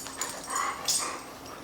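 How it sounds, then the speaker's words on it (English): Dogs whimper and yip in short high-pitched bursts, with a quick bark, moderately close in a quiet indoor room. "Boy, my dogs are busy today."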